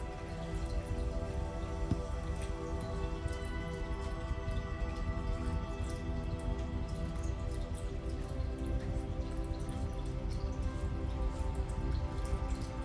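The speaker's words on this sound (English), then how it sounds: "very slowly and carefully pour in the wax into the candle" Melted candle wax poured slowly and carefully from a kit into a candle container, a steady soft trickling patter with faint drips running evenly throughout, close and quiet with no talking.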